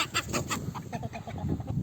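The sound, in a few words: rooster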